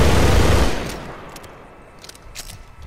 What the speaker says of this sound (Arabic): آخر طلقة هي الطلقة الرهيبة